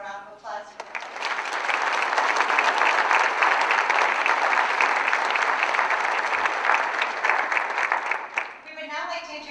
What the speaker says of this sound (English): So we could give them a round of applause for that.